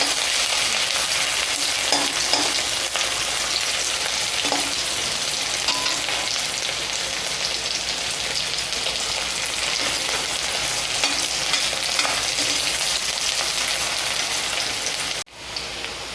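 Onions fry in oil left over from cooking fish, a dense, even crackle of sizzling that holds steady throughout with faint occasional stirring taps, ending in a brief dip.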